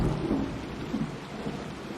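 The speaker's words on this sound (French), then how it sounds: "La pluie s'abat sur la forêt." Rain pours steadily over a Western red cedar forest in Canada while a low rumble of thunder rolls underneath, a dense close wash of sound with no voices.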